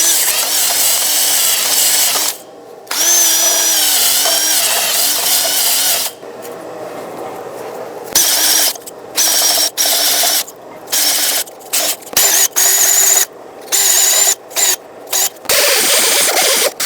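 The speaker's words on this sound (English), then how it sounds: "I'm going to use a wire wheel on a drill and just clean everything up" A wire wheel on a power drill scrubs the rear brake hub of a 2011-2018 RAM 2500 truck, loud and close in repeated bursts of whining, rasping spin separated by short pauses.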